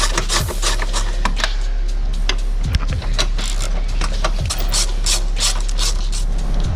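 A hand ratchet loosens bolts on the air box of a Honda Civic Type R, its pawl clicking in quick, steady strokes with short pauses between passes, close and loud against a faint low hum.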